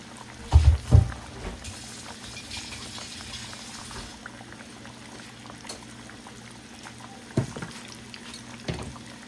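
Battered shrimp dropped into hot oil in a pan, a bubbling sizzle with a few louder splashy bursts as pieces go in, settling into a quieter steady fry.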